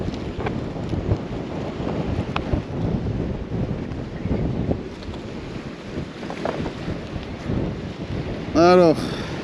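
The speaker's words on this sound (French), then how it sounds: "Il y a du vent." Steady wind buffeting a microphone on a sea jetty, a continuous low rumbling roar with gusty swells, and a brief tonal chirp near the end.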